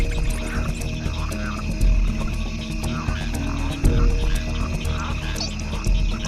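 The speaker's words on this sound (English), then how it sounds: "frogs try to stay hidden or reduce their calls to a brief low-frequency rumble" Frogs calling in a jungle at night, a dense chorus of croaks and rhythmic pulsing calls layered over steady high insect trills, continuous and moderately loud throughout.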